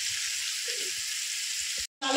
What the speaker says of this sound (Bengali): একটু ভাজা ভাজা হোক, ভাজা ভাজা হলে তারপর আমি মশলাটা কষিয়ে নেব।